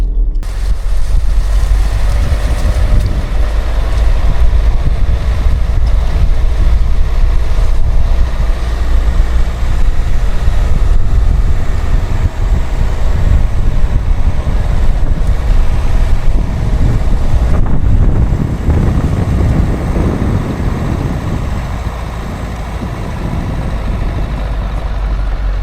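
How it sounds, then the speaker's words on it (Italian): Strong wind gusting steadily over an open hilltop at night, a loud continuous low rumble and buffeting roar throughout, easing slightly toward the end, with no talking. "Vento bello forte"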